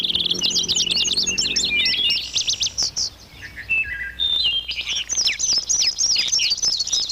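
Songbirds sing in bright, rapid trills and warbling phrases, one bird after another, clear and close with no voices.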